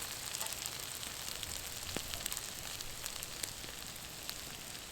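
Potatoes fry in a pan over a campfire, giving a faint, steady sizzle with scattered small crackles and pops throughout. No one talks.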